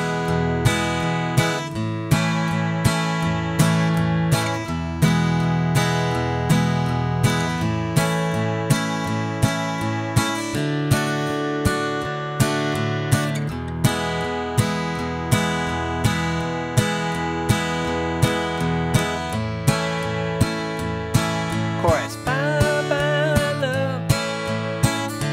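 An acoustic guitar strums the verse of a song in a steady, even rhythm of chords, played alone and close, with a brief flourish near the end.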